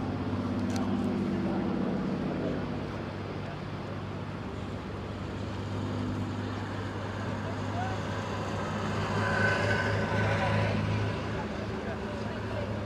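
Avro Lancaster bomber engines run as the aircraft moves at an air display, giving a steady, loud droning hum with layered tones that swells slightly toward the end.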